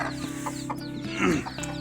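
A chicken clucks in short, soft bursts close by, with a busier flurry of clucking midway through.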